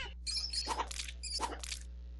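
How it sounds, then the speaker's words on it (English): Rats in a horror video game, a cluster of high shrill squeaks and shrieks in two bursts over a steady low electrical hum. "You hear squeaks and shrieks and terror all around you."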